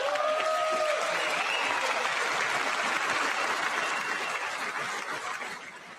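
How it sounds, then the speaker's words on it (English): An audience applauds during a Trump speech, dense sustained clapping that fills the hall and fades off toward the end, with a brief voice audible at the start. "I wasn't sure if anybody, even on this side, was going to applaud for that."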